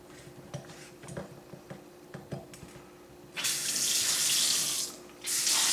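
A single-handle kitchen faucet, just repaired and running without check valves, opens with a loud, steady rush of water into the sink after a few quiet clicks. The flow pauses briefly, then gushes again.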